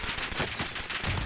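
Kar98 sniper rifle gunfire in Warzone: loud, dense, broadband bursts with a few sharper cracks standing out from a continuous noisy wash, no voices.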